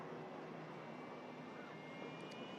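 A Ryanair Boeing 737 MAX 8200 jet departs toward Paris Beauvais, heard as a faint, distant, steady broadband roar of jet engines with no talk.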